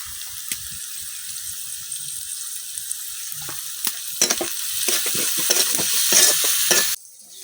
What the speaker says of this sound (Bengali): এখন পেঁয়াজের মধ্যে দিয়ে দিতেছি একটু লবণ। লবণটা দিলে পেঁয়াজটা কিন্তু তাড়াতাড়ি ভাজা হয়।